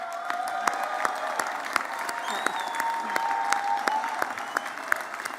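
Convocation audience at a June graduation ceremony applauding, a dense, steady wash of clapping from many hands with a few sharper nearby claps standing out.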